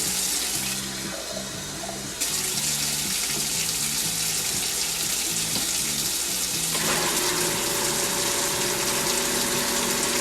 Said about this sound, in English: I'm gonna put some more hot water in here.